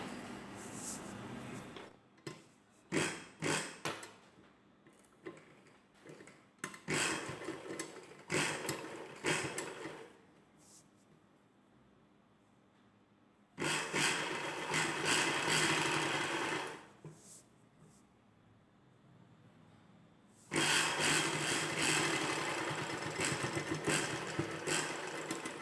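A sewing machine stitches a folded-under edge on a dress collar, running in loud close bursts: a run of short stop-start stitches first, then two longer sustained runs separated by quiet pauses.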